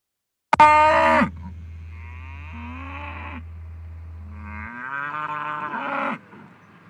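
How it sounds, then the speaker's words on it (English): Cattle in the East Bay Hills lowing, a sudden loud moo followed by a long drawn-out low bellow that rises again into a second strong call, close and alone. "cattle still roam the area."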